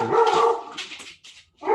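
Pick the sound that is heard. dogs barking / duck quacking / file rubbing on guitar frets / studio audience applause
dogs barking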